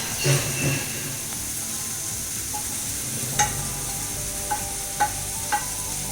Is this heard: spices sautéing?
yes